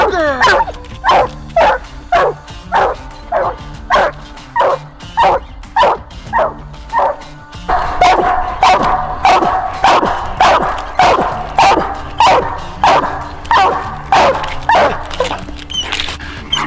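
A coon hunting dog bays loudly and steadily in the woods, a long run of evenly spaced, ringing barks that keep a regular rhythm and grow denser partway through.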